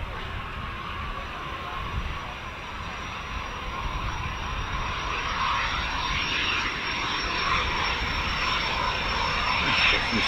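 A Eurofighter Typhoon FGR4 jet of 3 Fighter Squadron at an RAF station, a distant but building engine roar with a steady high whine, growing slightly louder toward the end.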